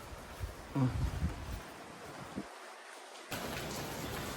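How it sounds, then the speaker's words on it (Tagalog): Light rain falls at an outdoor resort construction site, a steady hiss of drops through the clip, with brief talk near the start and a short drop-out midway. "Medyo umuulan na."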